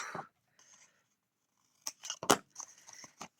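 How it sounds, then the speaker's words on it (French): Scissors snipping a paper strip for a handmade kimono-style card: a few quick, close, crisp cuts in a short burst, with faint paper rustle between them. "Donc là, elle est bien trop longue, donc on va lui couper un bout."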